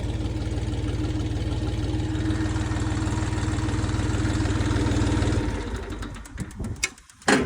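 Xingtai 244 three-cylinder 24-horsepower four-wheel-drive tractor with a DU 1.4 rotary tiller, its diesel engine idling with a steady low throb for about five seconds before the sound drops away and ends in brief handling noise.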